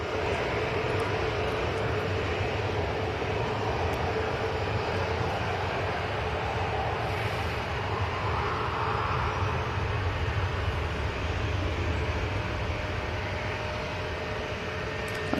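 A Ryanair jet airliner turns onto final approach near Manchester Airport, its engines producing a steady, broad, distant roar that holds evenly throughout with no voices.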